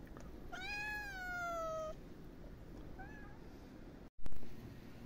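A kitten or young cat in a garden in Kemaliye, Erzincan, gives one long, clear, drawn-out meow, then a brief faint mew, over steady outdoor background noise, with a short loud bump near the end.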